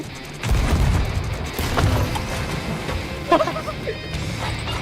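Boats trading fire in a naval battle game: a burst of heavy booms and crashing shots, then scattered bangs and one sharp loud hit, with a voice talking faintly over the fight.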